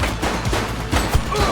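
Rapid gunfire crackles in The Precinct video game, a quick string of sharp shots close by over a dense, noisy background lasting under two seconds.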